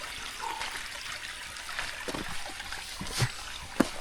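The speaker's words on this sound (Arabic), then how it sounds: "طلع خرير ميه نازل لتحت كده" A small stream trickling down a slope in the Alps, a steady faint babble of water with a few brief louder splashes near the end, heard alone outdoors.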